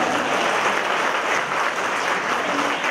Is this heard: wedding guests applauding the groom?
yes